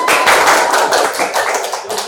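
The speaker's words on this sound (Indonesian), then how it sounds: "Oke, tepuk tangan." A small classroom group claps together in brisk, dense applause that stays steady for about two seconds before thinning out.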